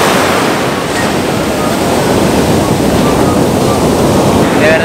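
Sea waves wash loudly onto the shore in a steady, broad roar, with wind buffeting the microphone throughout and no voices in the foreground.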